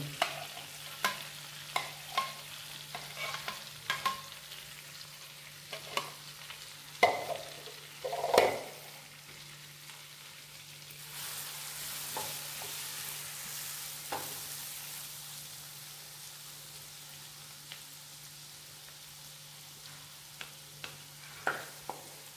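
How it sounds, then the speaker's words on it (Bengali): Garlic frying in butter for garlic prawns, a low steady sizzle with scattered clicks and scraping stirs, a louder hiss swelling midway then settling back to gentle frying and occasional utensil taps. "এবার এখানে আমি রসুনটা দিয়ে দিচ্ছি।"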